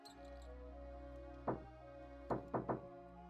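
A mouse bumps around in the video game Shadowgate 64, making four dull knocking thumps, one alone and then a quick cluster of three, over a low steady game hum with no talk.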